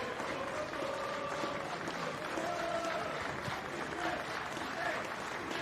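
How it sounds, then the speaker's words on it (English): A football crowd at Barry Town United v Llanelli Town applauds a substituted player leaving the pitch late in the match, a steady, distant wash of clapping heard faintly from the stands. "Wilmot gets a round of applause with 4 minutes to go"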